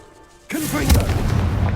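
In Hogwarts Legacy, the Confringo spell bursts with a sudden loud blast, followed by a booming, rumbling explosion with crackling debris that stays loud to the end.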